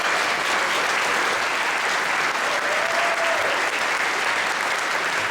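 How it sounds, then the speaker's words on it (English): An audience at a pancake day event in a theater applauds a 5th grade band, a steady, loud, even clapping that fills the whole stretch with little talk. "Give them a round of applause, please."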